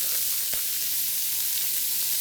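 Korean-style beef short ribs searing on both sides in a pan over high heat, giving a dense, even hiss of sizzling that holds steady from start to finish.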